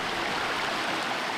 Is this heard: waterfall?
yes